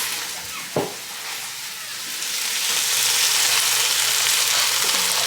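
Beans tipped into a hot pot with pork, spices and green chilies, giving a brief thud followed by a steady, close sizzle that swells and then holds loud.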